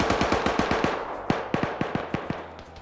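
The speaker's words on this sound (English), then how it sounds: "Now you got the 50 cal Vic firing" .50 cal machine gun firing in a video game, a steady rhythmic string of sharp shots that slows slightly partway through, fairly loud with no talk over it.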